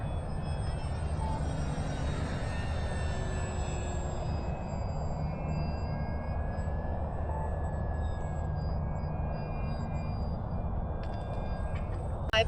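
An E-flite P-39 RC model airplane flies on its maiden flight, its electric motor giving a steady, continuous drone with a faint high whine, fairly constant in loudness for the whole stretch.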